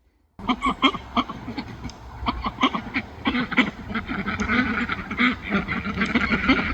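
Homestead ducks quack loudly and close up in a busy, overlapping chatter of many rapid calls that continues throughout.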